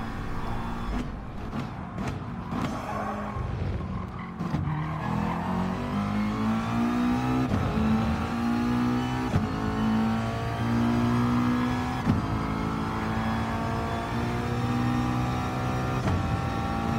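Race car engines from Gran Turismo Sport at Suzuka, including a Jaguar and a McLaren, drone and rev steadily in a close pack, with pitch sweeps through gear changes and a brief skid as a car loses grip under braking.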